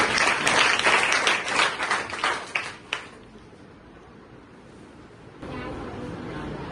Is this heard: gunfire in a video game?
no